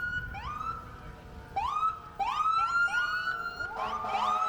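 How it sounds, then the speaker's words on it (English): Wailing ambulance siren at a St. Patrick's Day parade in the Village of Buchanan, sweeping up and down in repeated rising tones, fairly close and steady, with a second siren overlapping at times. "now I see we have one of their ambulance"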